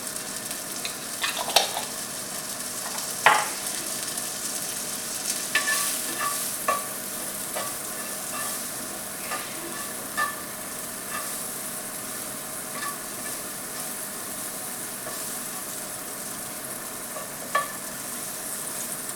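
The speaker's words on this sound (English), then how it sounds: "The asparagus just needs to be a little bit grilled so it's like a little bit softer" Asparagus spears seasoned with salt grill in a hot pan, giving a steady close sizzle with sharp pops and clatters as they are stirred and turned at intervals.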